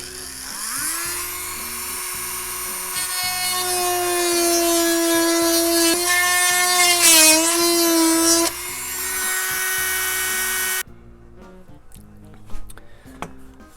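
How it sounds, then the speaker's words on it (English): An electric rotary tool with a drill bit reams out holes for T-nuts in the landing gear mount of a Great Planes Revolver 60 model plane. Its steady whine runs close and loud for about eleven seconds, then stops, followed by faint handling clatter. "So now I'm just going to go ahead and just try to ream it out like I did the lower ones to give us the room that we need for the T-nuts."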